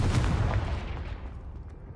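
A Confringo fire spell blast in the video game Hogwarts Legacy lands as a deep booming impact, loud at first and then rumbling and fading away over two seconds.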